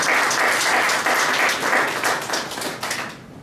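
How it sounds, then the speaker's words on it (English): An audience at a citizenship conference in Ghana applauds warmly, a dense, steady wash of many hands clapping that holds for about three seconds, then quickly fades to quiet. "Let's give him a round of applause."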